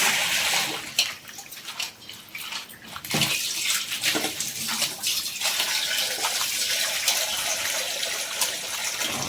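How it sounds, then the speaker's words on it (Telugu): Tap water runs steadily into a container while chirriaku leafy greens are washed, with a loud continuous gush and splashing close by. "మళ్ళీ ఇంకో ఇంకో దాంట్లో వాటర్ పట్టుకొని మళ్ళీ బాగా కడుక్కోవాలండి"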